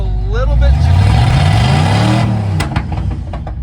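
A demolition derby car's engine revs hard from idle, climbing and falling in rising harmonic sweeps, then drops off sharply into rough, popping idle, loud and close.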